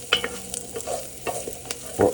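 Onions cooking in a pan for macaroni béchamel give a soft steady sizzle, broken by several scraping stirs and clinks of a utensil, close by and fairly quiet.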